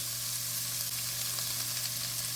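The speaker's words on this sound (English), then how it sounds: "So here goes my onion, and I already smell that bacon" Onion frying in a pan with bacon gives a constant dense hiss of sizzling fat, steady and close with a faint low hum beneath, no voices.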